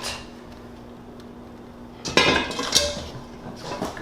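A heavy Dutch oven pot and lid are handled while sourdough is lowered inside, making a cluster of sharp, close metallic clanks and clinks after a couple of quiet seconds, with no talking.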